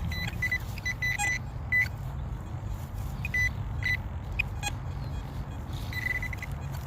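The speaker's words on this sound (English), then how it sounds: "Let's sweep the detector over." A metal detector sweeps over a buried signal outdoors, giving repeated short high beeps that come and go over a steady low background rumble.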